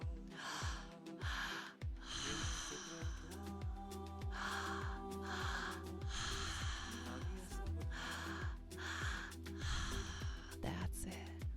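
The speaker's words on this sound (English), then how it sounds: "Big breaths into the belly. Big breaths into the heart." Deep belly breathing during a guided breathwork meditation, with steady rhythmic inhales and exhales and audible gasps, heard over a constant droning musical backing with no spoken voice.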